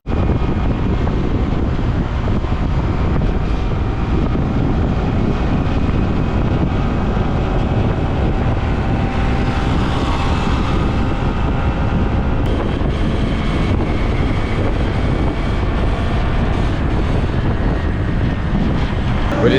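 A Honda Activa scooter rides along a road, its engine drone almost buried under loud, constant wind buffeting the microphone, steady and unbroken for the whole stretch.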